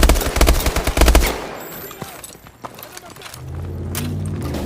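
In Call of Duty: Advanced Warfare, an armored turret fires a loud rapid machine-gun burst that stops after about a second, followed by scattered shots, rumble and vehicle noise.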